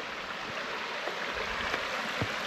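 A small creek flowing beside a forest mountaintop campsite, a soft steady trickle and wash with a few faint knocks, heard alone without speech.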